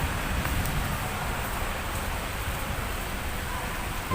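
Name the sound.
heavy rain at Padang airport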